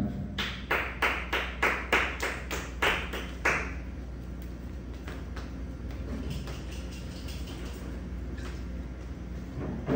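A church congregation at a worship service claps in steady unison, a brisk, evenly spaced rhythm of sharp claps for about four seconds before it loosens into softer, scattered clapping and a dull room murmur.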